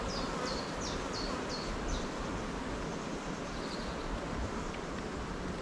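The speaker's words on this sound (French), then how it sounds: "C'est une ruche qui est populeuse, c'est cool." Honeybees swarm around an opened, well-populated hive, a dense continuous buzz close to the microphone with a few sharper passing wingbeats at the start and some light wind noise.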